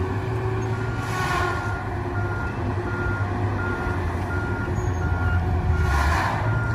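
A truck backing up, its reversing beeps sounding in a steady repeating rhythm over a constant engine rumble and heavy wind noise outdoors.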